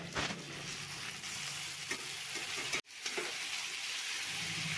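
Chopped green tomato fries with spiced potatoes in a pan, giving a dense continuous sizzle as the mixture is stirred, with a brief break partway through.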